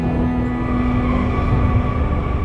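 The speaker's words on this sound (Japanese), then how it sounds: "おっと、ここで急停車かと思ったが、ただの急ブレーキでした。" Tobu Tojo Line express train braking hard, a steady loud rumble of wheels and running gear with a sustained tonal squeal, continuous throughout without voices.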